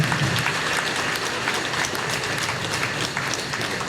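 Steady, dense applause from an audience at a Chennai talk event, continuous and fairly loud with no voices breaking through.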